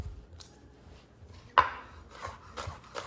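A single sharp knife chop through callaloo greens lands on a cutting board, with a few softer cutting and rubbing sounds scattered around it in an otherwise quiet kitchen.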